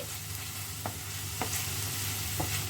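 Onions frying in butter or margarine for a cheesy tortelloni, giving a steady broadband sizzle with a few soft utensil scrapes and clicks from stirring, close and even throughout with no talking.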